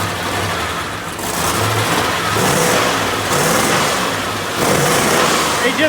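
A car engine revving repeatedly up and down in loud, close bursts, with a rough mid-pitched roar swelling and falling over several seconds and background voices mixed in.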